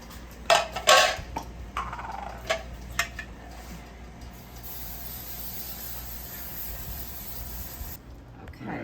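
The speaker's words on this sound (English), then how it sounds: "I'm going to give it a good coating with a baking spray that contains flour." Baking spray containing flour hisses in several short bursts into a bundt pan, followed by faint clinks and handling sounds and a long quiet hiss near the end.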